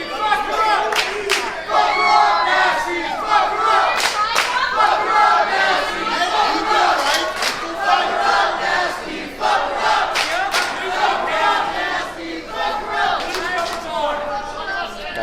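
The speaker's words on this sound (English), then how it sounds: "The crowd here firmly behind the champion of PrideStyle." A packed crowd at a PrideStyle independent wrestling championship match roars and cheers steadily and loudly, with shouts, chants and scattered clapping rising in bursts throughout.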